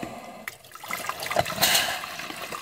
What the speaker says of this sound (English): I'm going to fill this back up with the 6 cups of water.